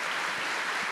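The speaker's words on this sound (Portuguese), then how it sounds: "Vamos aplaudir Nossa Senhora." A congregation applauds in honor of Our Lady at a Catholic talk, steady dense clapping filling the whole moment, close and continuous with no voices over it.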